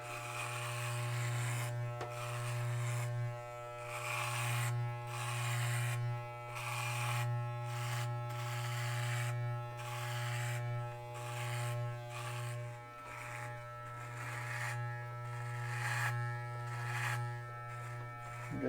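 Electric hair clippers hum with a steady close buzz during a home haircut, the tone dipping and swelling in short strokes as the blades move through hair.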